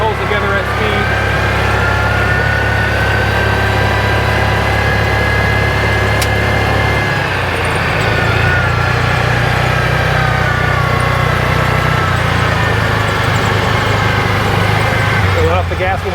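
A 2021 Axis 500 boat engine runs steadily at speed as the throttle is opened, a loud continuous engine drone with a shift in tone midway, sounding under wind and water noise.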